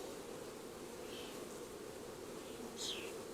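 Honeybees hum in a steady, faint, continuous drone during a beehive inspection, with no voices.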